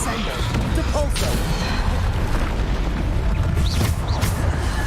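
Bombarda blasting spell explosions in the Hogwarts Legacy video game, dense booming blasts and crashes layered over continuous loud combat noise throughout.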